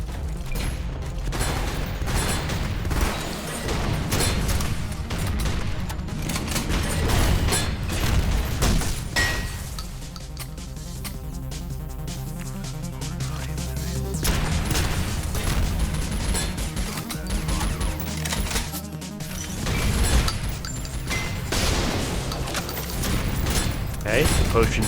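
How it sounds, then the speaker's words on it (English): Dense video game combat with grenade blasts and gunfire, booms and crashes layered over continuous shooting for a long stretch, while a player talks throughout. "definitely use the grenade"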